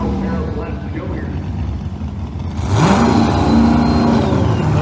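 A Pro Mod drag race car in the Northeast Outlaw ProMod eliminations, Don Tolley's Larry Plummer machine, goes from a loud idling drone to a roaring launch, its engine note climbing and holding high and close.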